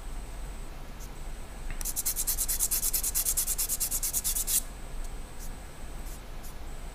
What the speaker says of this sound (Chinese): 那先打磨给各位试试看